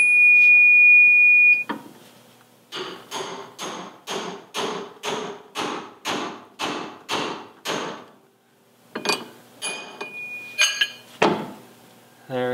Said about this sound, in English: now I like to use a pickle fork for this part and a hammer.